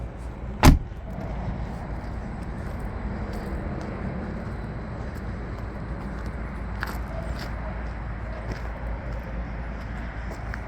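Steady interior rumble of a Jeep cruising on the I-5 highway into Oregon, a continuous road and engine drone with one sharp thump near the start and no talking.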